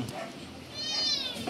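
A cat meows once in a short rising cry near a commercial lot with apartments and a carwash by a main highway, heard close behind faint background voices.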